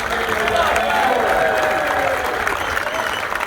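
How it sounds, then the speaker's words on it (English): Audience at the AFC Sudbury Academy football presentation day cheering and clapping for the boys' captain, a steady dense roar of applause and shouts filling the room, with voices mixed in throughout. "Yeah, we can cheer louder than that."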